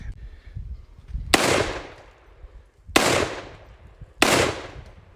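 Three sharp, loud gunshots crack at a shooting range, spaced about one and a half seconds apart, each followed by a short echoing tail, as a vacuum cleaner is shot.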